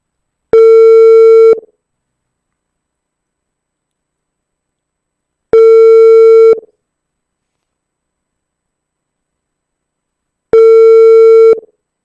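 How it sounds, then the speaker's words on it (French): A telephone ringback tone during an outgoing call: three loud, identical long beeps, each about a second long, spaced evenly several seconds apart with silence between them. "On tente l'appeler."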